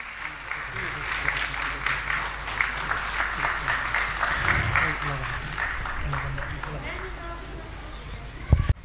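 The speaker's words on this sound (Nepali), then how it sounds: "खै ताली बजाउनुहोस् न प्लिज" Audience at an annual school music concert and art exhibition applauding students, steady clapping running under a voice speaking over a microphone, with a louder burst near the end.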